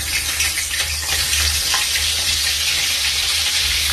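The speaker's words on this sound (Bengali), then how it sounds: "আমি এটাকে কড়াতে আস্তে আস্তে করে দিয়ে অল্প করে ভেজে নিচ্ছি" Parboiled broccoli fries in hot oil in a kadai, giving a steady, close hiss and crackle of sizzling with faint stirring scrapes, continuous and fairly loud without speech.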